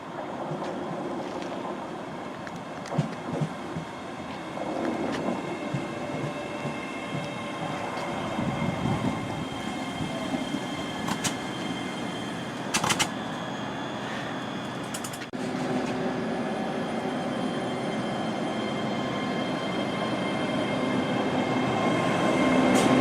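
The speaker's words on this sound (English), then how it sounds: "our train should be arriving now to take us to Falkirk Grahamston." A train pulls into a station in Scotland on the way to Falkirk Grahamston, with a long rolling rumble of wheels and carriages, a few sharp squeals and clanks, and the noise growing louder toward the end.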